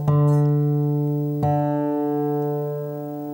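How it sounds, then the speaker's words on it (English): Two plucked acoustic guitar notes ring together, struck once and then again, sustaining steadily and fading slowly. "So play the 2 strings together."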